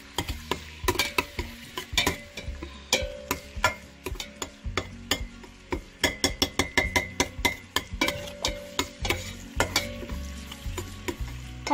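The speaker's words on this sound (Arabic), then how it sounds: "هي عم تتقلى الكزبرة والثوم، انا فيني ضفلها اللحمة" Coriander and garlic frying in a pan for an Indian curry, with a steady sizzle under repeated rhythmic clinks and scrapes of a utensil stirring against the pan.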